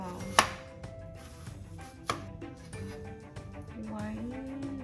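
A knife chops an onion on a board in a home kitchen while making Filipino lumpia shanghai, a few sharp, close cuts standing out over a continuous background of low kitchen noise.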